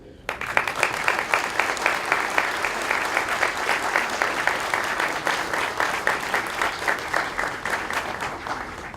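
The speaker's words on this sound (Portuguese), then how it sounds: "Eu quero saudar e pedir uma salva de palmas para B. Calheiros Bonfim." Conference audience gives a round of applause for an honored guest at a head-table session, a continuous, moderately loud wave of clapping with faintly rhythmic pulses running the whole time.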